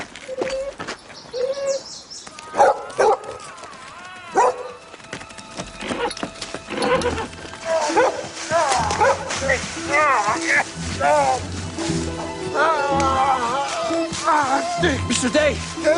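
A dog barks and whimpers in short, irregular bursts across the scene, with speech and other voices mixed in over a busy, layered background.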